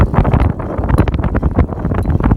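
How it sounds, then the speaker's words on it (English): Wind roars steadily across the microphone while riding a Leisger CD5 electric bike outdoors, a loud continuous buffeting rush with gusty surges and no talk. "It's a little windy today."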